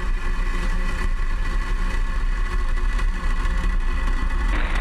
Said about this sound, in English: ignition, engines full power, and liftoff of Starlink